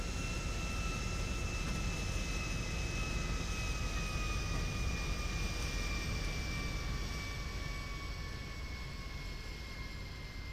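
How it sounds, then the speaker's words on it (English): A plane in Grand Theft Auto V drones steadily with a loud, continuous engine roar and a faint high whine that slowly drifts in pitch, with no talk over it. "There's literally a plane here."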